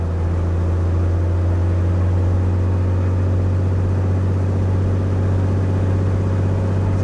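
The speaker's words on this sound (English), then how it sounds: "I'll again increase the throttle. I'll increase the RPM. I'll take it to 2000, clear my spark plugs," An aircraft piston engine at elevated RPM during a run-up check for spark plug clearing, a loud continuous droning hum with a strong low tone, steady throughout with no voices.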